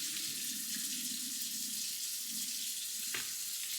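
Running water pours steadily into a kitchen sink while juice is poured out, a continuous soft hiss and splash with one brief knock near the end; fairly quiet, no voices.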